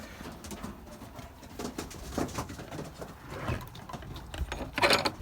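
Pigeons in a wet loft among young birds, with soft cooing and bird calls over steady low rustling and shuffling, growing a little louder near the end; no talking.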